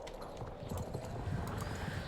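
Hooves clip-clop steadily on an old horse ridden in a video game, a dense, continuous patter of light hoofbeats at moderate distance with no talk over it.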